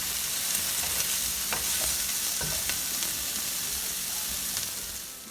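Steady, close sizzling of Italian hot dogs frying in a hot pan, a continuous crackling hiss with occasional pops and no voices.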